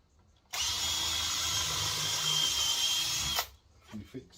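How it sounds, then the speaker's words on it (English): A drill driver pre-drills holes for fixings in studwork preparation, a single whirring burst of about three seconds up close. A few soft knocks follow once it stops. "Pre-drill first, I'll just do"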